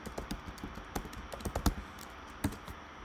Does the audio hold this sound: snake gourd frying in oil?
no